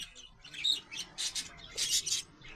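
Budgerigars chirp in short bright bursts among other parrot species, several quick tweets and squawks in an irregular rhythm, moderately close with no talking.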